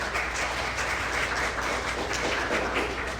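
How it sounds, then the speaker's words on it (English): An audience at a youth speaking convention applauds, a dense, even wash of many hands clapping at once, steady and loud throughout with no voices. "please give one more round of applause"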